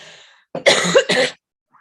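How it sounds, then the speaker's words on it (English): Two harsh, close coughs in quick succession, loud and abrupt, with near silence before and after. "since I'm coughing and spluttering"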